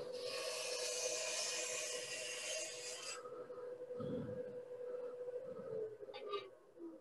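Wood lathe trimming the top of a turned spindle vase, a faint steady rasping hum of the tool on spinning wood with a short scraping burst midway, no voices.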